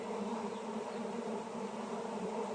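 Honey bees from a swarm that is being returned to its original hive box, buzzing in a dense, steady drone that stays close and even throughout, with no voices.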